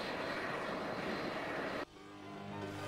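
Aircraft flying near Heathrow airport, a steady broadband engine roar close overhead that cuts abruptly partway through and leaves a quieter tonal hum.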